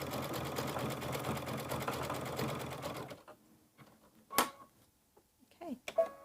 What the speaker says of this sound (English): I can continue sewing.